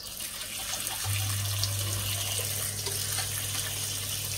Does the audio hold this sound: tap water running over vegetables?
yes